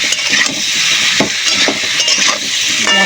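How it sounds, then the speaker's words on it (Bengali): Vegetables sizzle loudly in hot oil with spices in a pan, a dense, steady hiss broken by occasional stirring scrapes and clinks, close up and with no talking. "মশলাটার সঙ্গে আনাজটা ভালো করে ভেজে নেব"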